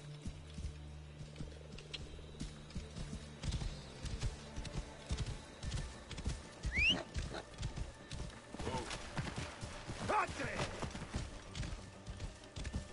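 A horse gallops in the Assassin's Creed Origins video game, its hooves pounding in a quick, uneven clip-clop rhythm, with a neigh amid game noise and someone talking over it.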